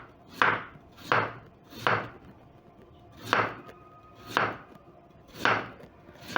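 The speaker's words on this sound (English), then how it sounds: "So as I slice my potatoes" A knife slices through potatoes on a cutting board in a steady series of sharp, crisp chops, about seven separate cuts spaced irregularly, close and moderately loud with no talking.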